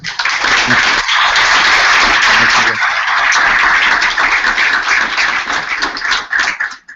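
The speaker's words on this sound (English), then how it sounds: "give these guys a round of applause" Loud, dense applause from an audience fills the space continuously, a steady wash of clapping that thins slightly near the end.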